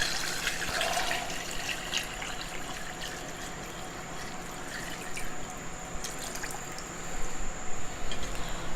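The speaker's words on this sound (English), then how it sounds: "3 quarts of water." Water is poured into a stock pot in a home kitchen for chicken stock, a steady, fairly soft trickle and splash running throughout the clip with no talk over it.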